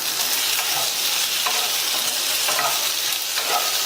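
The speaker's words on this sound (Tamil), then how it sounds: "தோல் உரிச்ச வாழைக்காயை இதுல சேர்த்துட்டு நல்லா வதக்கி கொடுங்க" Peeled raw plantain sautés in ginger garlic paste, giving a dense, constant bright sizzle with faint stirring scrapes now and then, loud and close.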